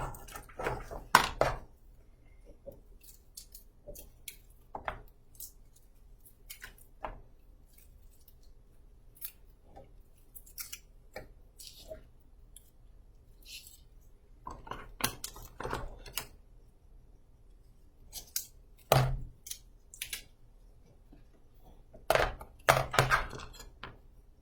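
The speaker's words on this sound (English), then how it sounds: "I'm going to take my knife and cut down right here and separate these out" Knife cutting apart packaged craft items at a table, scattered sharp snips and clicks with short bursts of cutting and crinkling separated by quiet pauses.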